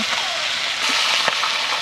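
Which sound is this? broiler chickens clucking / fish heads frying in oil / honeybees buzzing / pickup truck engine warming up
fish heads frying in oil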